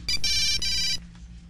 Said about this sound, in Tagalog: nag-ring ang akong cellphone.